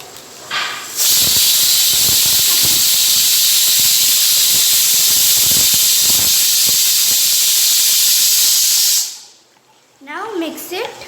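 A kitchen pressure cooker cooking pav bhaji gives a loud, continuous steamy hiss for about eight seconds before cutting off abruptly, followed by a short burst of quieter clatter.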